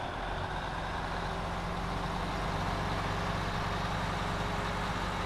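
A heavy truck engine idles steadily in the Snowrunner off-road driving game, a constant low rumble with a faint rattle that holds at an even level throughout, with no voices.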